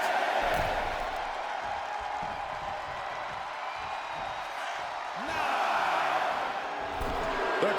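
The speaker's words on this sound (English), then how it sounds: "The crowd is fired up." A crowd cheers at a fight night event, a broad roar of voices rising and swelling in waves, with an announcer talking over the noise.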